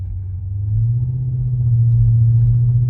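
A Chrysler 300 with a Flowmaster Super 40 muffler rumbles off throttle, a deep steady exhaust drone that swells slightly after the first second.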